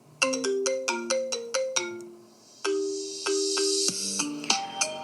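A bright iPhone ringtone melody plays alone, with quick plucked notes in a repeating pattern, then a sustained shimmering chord and a few closing tones.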